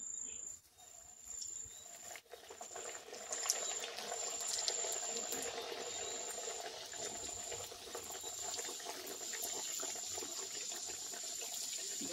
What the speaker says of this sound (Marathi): तर मी आता ही कचोरी त्याच्यामध्ये तळून घेणार आहे